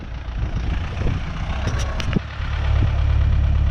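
Renault tractor engine running in a yard during clearing and scraping work, a steady low rumbling idle with a few clanks and knocks on top, picking up slightly in the last second.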